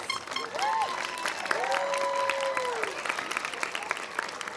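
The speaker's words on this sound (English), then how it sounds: "Let's give a round of applause, please, to all the graduates." An audience applauds graduates at a high school graduation ceremony, a continuous moderate patter of clapping with cheering voices rising over it.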